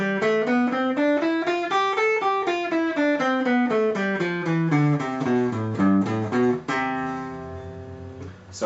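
A clean guitar plays a scale of single notes climbing up from the root note and then descending back down, evenly paced, ending on a sustained ringing note.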